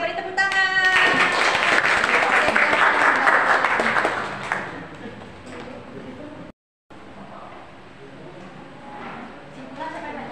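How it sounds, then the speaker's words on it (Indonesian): Classroom applause from students after a group presentation, a loud burst of clapping over the first four seconds that fades to quieter room noise with a brief dropout. "Oke, beri tepuk tangan."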